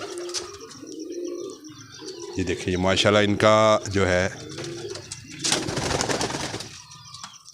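A pigeon of a working Pakistani breed coos in short throaty bursts close by, with someone talking over and between the calls.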